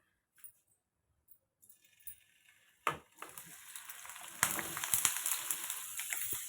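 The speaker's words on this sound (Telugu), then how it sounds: "పన్నీర్ అనేది మనం సిమ్లో పెట్టి ఫ్రై చేసుకోవాలండి." Paneer frying on low heat in a pan, cooked for dhaba-style palak paneer. A few soft clinks come first, then a steady, gentle sizzle builds and keeps going.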